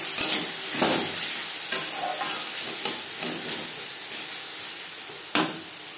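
Okra and potato pieces seasoned with salt and turmeric are stirred as they fry in a pan: a continuous close sizzle broken by periodic scraping strokes of the spatula.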